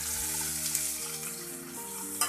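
Cumin, mustard seeds and chopped onion fry in hot oil in a kadai, giving a steady, close, dense sizzle with faint stirring clinks and no talk.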